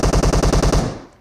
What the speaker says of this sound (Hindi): लेफ्ट से फायरिंग का साउंड आता है